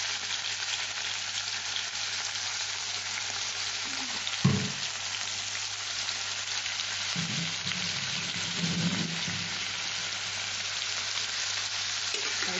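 Prawns coated in salt and turmeric fry in a pan with a steady, moderate sizzle, broken by a sharp knock around the middle and some brief stirring clatter after it.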